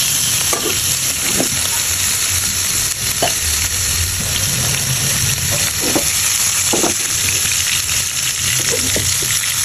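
Rui fish fries in spiced oil in a pan, giving a loud, continuous close sizzle with occasional scraping stirs breaking through.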